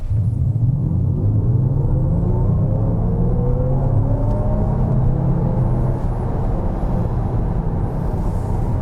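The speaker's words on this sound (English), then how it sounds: "We'll go into dynamic mode, which will activate that weird driving sound" Audi Q4 55 e-tron quattro electric SUV accelerating in dynamic mode, its synthetic drive sound rising in a steady low drone with faint climbing tones over continuous road rumble, loud and close throughout.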